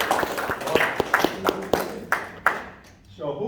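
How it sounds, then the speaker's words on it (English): Audience clapping at a Toastmasters meeting, a burst of sharp separate claps that thins out toward the end, heard close and fairly loud. "Give her some applause."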